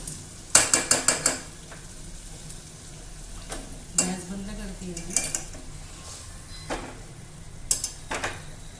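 A spoon scrapes and clatters in a pan as stuffed bitter gourd (karela) curry cooked with sugar is stirred, in short bursts of metallic scraping over a low sizzle, with a quiet voice speaking in between.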